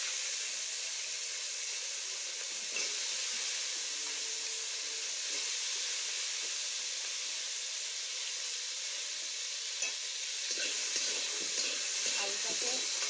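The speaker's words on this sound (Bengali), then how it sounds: "তো এবারে আলুগুলো দিয়ে দিচ্ছি" Potatoes frying with curry leaves in a pan, a soft continuous sizzle and hiss held at a low, even level throughout with a few faint stirring scrapes near the end.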